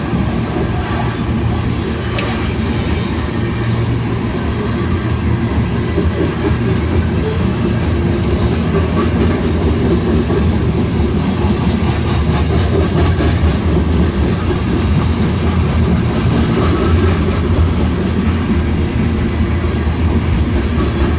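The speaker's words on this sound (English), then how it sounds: "at the end of this particular coal drag is a 70 Mac." A loaded coal train with an SD70MAC locomotive rolls past at close range, a loud continuous rumble of wagons with rail clatter and faint wheel squeal throughout.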